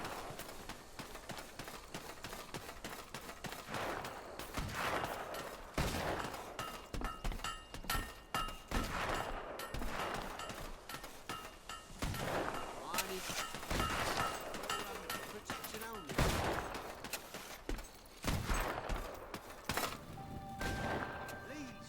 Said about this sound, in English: It's a shooting range. You shoot at things.